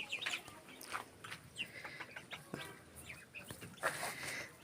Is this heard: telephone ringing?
no